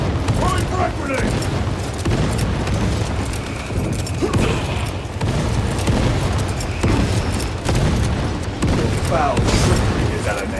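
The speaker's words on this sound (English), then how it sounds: "Throwing frag grenade!" Frag grenade blasts and battle noise in Warhammer 40,000: Space Marine 2, with repeated booming bursts and clatter spread through a loud, dense fight while voices speak throughout.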